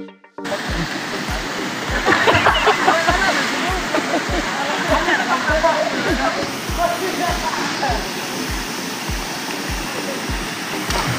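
A waterfall at Imelda Falls roars as steady, dense rushing water throughout. Rhythmic low thumps run beneath it, and voices talk intermittently over the noise.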